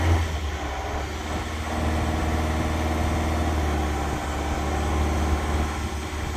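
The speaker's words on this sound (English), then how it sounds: "So engine's running here. We've got to hold it at about 1800 for the duration of this test." A car engine held at a steady fast idle around 1800 rpm during an engine treatment, producing a constant low droning hum with no change in pitch, close and continuous.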